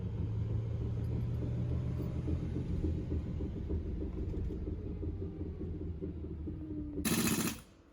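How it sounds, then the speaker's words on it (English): Minibus with a loose wheel and a faulty brake making an abnormal noise: a steady low rumble with rattling, mechanical clatter throughout, ending in a brief loud broadband burst before fading. "the weird noise that the minibus was making was very obvious"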